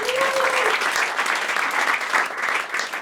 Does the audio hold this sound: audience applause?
yes